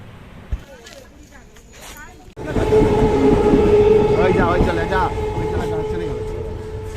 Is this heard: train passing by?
yes